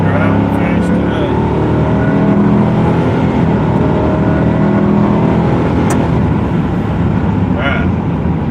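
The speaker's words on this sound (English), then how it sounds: "let me get on this here turnpike so pay attention. Woo! Just driving fast today." A car drives fast on a turnpike, its steady loud road and engine roar filling the whole stretch continuously, with a voice talking over it.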